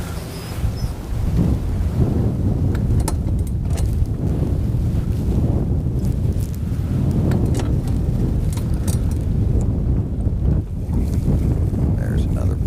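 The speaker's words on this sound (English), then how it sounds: "There's another pretty good gust of wind." A gust of wind rushes across open water during a fishing trip, steady and loud with buffeting noise on the microphone throughout, and a person speaking faintly beneath it.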